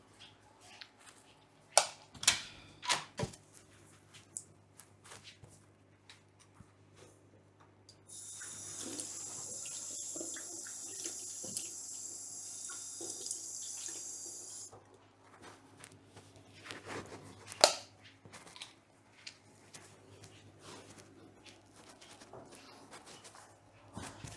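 After scattered clatter and knocks, aquarium water pours out in a steady hiss for several seconds, then stops, leaving quiet handling noises.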